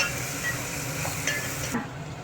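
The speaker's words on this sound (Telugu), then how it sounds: "టమాటో వేసిన తర్వాత కొంచెం ఫ్రై చేయాలి" Onions and tomato fry in a pan for a village-style horse gram rasam, giving a steady low sizzle with light stirring scrapes, close and continuous with no talk, before an abrupt shift near the end.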